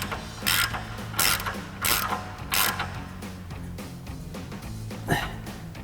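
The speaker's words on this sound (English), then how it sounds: "We're going to use our 26mm socket to fully tighten our shank nut" A ratchet with a 26mm socket tightens a shank nut on a 2020-2026 Silverado 2500 leveling kit, giving several close, bright bursts of rapid clicking separated by short pauses, with faint background hum.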